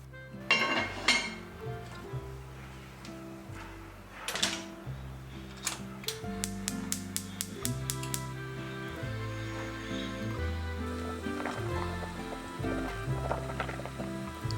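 Butterflied chicken and water are put into a thick-bottomed pot, giving close, scattered clinks and knocks of cookware against a steady low background.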